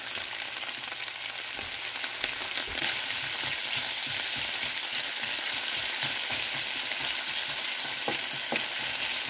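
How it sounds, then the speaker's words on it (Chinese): Meat slices and potatoes stir-frying in a wok give off a continuous, dense sizzle with scraping stir sounds mixed through it, close and steady with no talking. "在肉片炒熟，加入土豆。"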